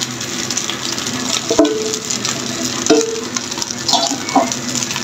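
Scrambled egg goes into leftover rice frying in a pan, with a loud continuous sizzle and scraping stirs and a few sharp spatula knocks against the pan, close up and without speech.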